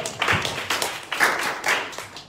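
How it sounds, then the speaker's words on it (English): Audience applause after a speech on good leadership in Sierra Leone, a few seconds of brisk, close hand clapping in uneven waves, with no talk over it. "Give him a round of applause."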